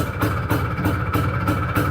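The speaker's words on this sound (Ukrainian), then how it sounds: "Так, працює моторчик." An Izh Planeta 5 motorcycle engine idles steadily nearby, a low rhythmic thrum with regular pulsing beats and no talk over it.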